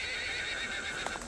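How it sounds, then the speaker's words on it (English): A horse on a rural trail gives a loud, sustained whinny at close range, steady throughout with a couple of soft hoof knocks near the end. "I'm gonna take the horse into town, guys,"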